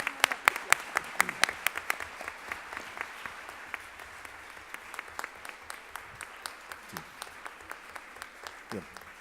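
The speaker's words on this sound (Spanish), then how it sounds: "Les pido por favor que les brindemos un gran aplauso." Applause at a university seminar for the panelists, with distinct individual claps crackling in a loose rhythm from a small, fairly distant audience that thins toward the end.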